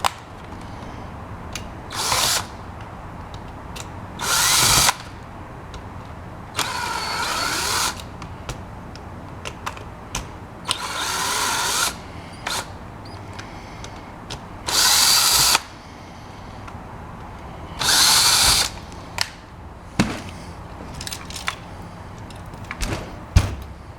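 Power drill fitted with a flathead screwdriver bit, driving screws while a contactor is fitted. Several short bursts of whirring spaced through the clip, each a second or so long, loud and close, with small clicks and handling knocks in between.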